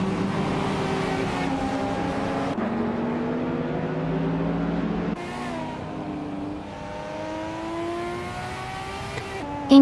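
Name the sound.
race cars in video game race, 1982 Holden Commodore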